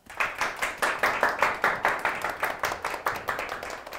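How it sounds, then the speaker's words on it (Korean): An audience claps steadily at a cultural lecture in Seoul to welcome a speaker, the hand claps close and rhythmic and running on without pause, with no voices over them. "홍소연 선생님을 큰 박수로 모셔보겠습니다"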